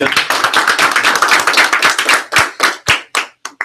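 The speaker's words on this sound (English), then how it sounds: "We still clap loud for." A training group claps loudly together, starting as a dense burst of many hands and thinning out into a handful of separate, sharp claps near the end.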